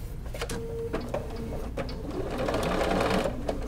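A sewing machine stitches a reversible quilted tote bag in short bursts, a fast close whirring that pauses and restarts and then runs longer toward the end, with faint background sounds and no talking.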